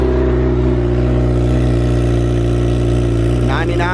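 A 2017 Honda CBR1000RR fitted with an Akrapovic GP slip-on exhaust idles loud and close with a steady low drone, then gives short rising revs near the end.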